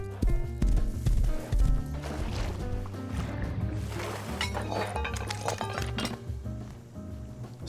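Steady clip-clop of horse hooves over layered game music and ambient effects, continuous and moderately loud throughout.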